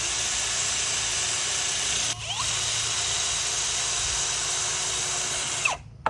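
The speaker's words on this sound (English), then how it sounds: "put it in my drill" A power drill turning a threaded rod to run a nut along it whirs steadily at close range, its motor droning for several seconds with a brief dip partway through before winding down at the end.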